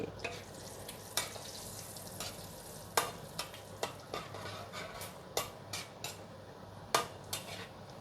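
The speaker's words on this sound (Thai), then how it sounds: "แล้วเราก็เอาพริกขี้หนูแห้งลงไปทอดค่ะ ทอดไฟอ่อนๆนะคะ" Dried bird's eye chilies frying gently in oil over low heat, with a soft, steady sizzle under scattered sharp clinks of a utensil stirring against the pan, quiet and close.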